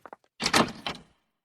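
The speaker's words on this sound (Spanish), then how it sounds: "el ruido brusco de la puerta del piso abrirse" An apartment door is yanked open abruptly: a couple of quick light clicks, then a loud, scraping, rattling sweep of the door lasting under a second before it falls silent.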